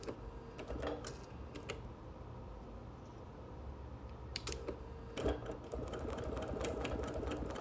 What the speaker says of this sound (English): And then I ditch quilted around that middle hexie.